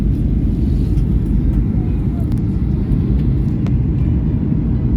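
Steady low rumble of an airliner cabin as the flight prepares to land, a dense broadband drone holding constant throughout with faint higher hiss above.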